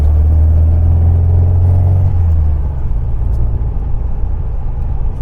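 A car fitted with reworked Weber IDF carburettors cruises at part throttle, its loud, steady low engine drone shifting smoothly in pitch as it pulls along, alone with no voices.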